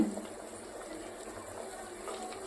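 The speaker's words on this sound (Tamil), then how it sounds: "நல்லா கொதிச்சிருச்சு" Steady bubbling and hiss of water boiling in a pot for chicken biryani, constant and close, with no talking.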